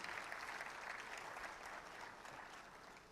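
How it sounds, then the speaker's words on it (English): Applause for the jury members at a banking awards ceremony, a dense wash of clapping from a large hall audience, fairly quiet and distant, easing slightly toward the end. "Can we please have a big round of applause for the jury members?"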